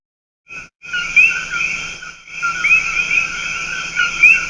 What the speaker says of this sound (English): That's how they get their name, from the high-pitched coqui sound they make